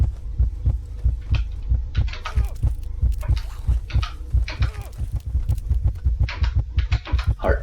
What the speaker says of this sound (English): Heart beating very fast now.